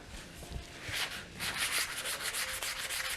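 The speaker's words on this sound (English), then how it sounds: "That's why we're sanding it, so we can find the high places" A primed surface is sanded by hand with steady, rhythmic back-and-forth rubbing strokes, close up and alone, with no talk.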